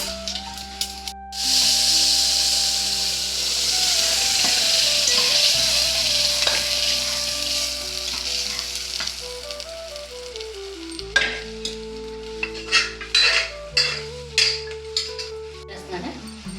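Spices tempering in hot oil for a dal with spinach-like bachali greens and tomato, a loud steady sizzle running for about ten seconds, then sharper bursts of spattering and stirring near the end, with background music throughout.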